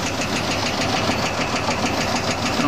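An Oliver 80 gravity table seed separator runs at about 401 RPM on a variable-speed drive, giving a loud, steady mechanical drone with a rapid rhythmic knocking vibration throughout.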